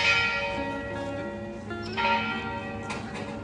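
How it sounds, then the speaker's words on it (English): A church bell on the Meseta of the Camino de Santiago rings with rich, ringing overtones, strokes overlapping and sustaining, fairly close and clear. "there's the bell"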